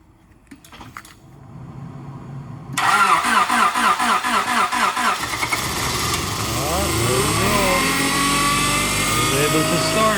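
A car engine being jump-started in extreme cold with a GOOLOO GT4000S booster cranks in rapid rhythmic pulses and then catches, settling into a loud, steady idle. Faint speech comes just before the cranking.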